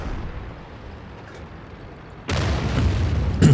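Enemy tank blowing up in World of Tanks, a sudden heavy boom breaking over low rumbling engine noise, followed by sustained roaring debris and a second sharp blast near the end.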